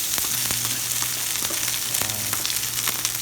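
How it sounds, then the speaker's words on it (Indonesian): Spice paste for soto hits hot oil and sizzles loudly and continuously, with occasional sharper crackles and spatters close by and no voices. "Nah, ini minyaknya udah panas ya teman-teman. Masukkan bumbunya ya buat ditumis"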